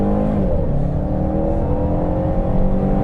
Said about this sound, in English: Brakes all the way in, gas all the way in, build some boost, and then off we go